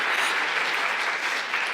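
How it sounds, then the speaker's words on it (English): A church congregation applauding during a sermon, a dense, steady burst of many hands clapping together at close range, with no voices over it. "You might get tired of clapping."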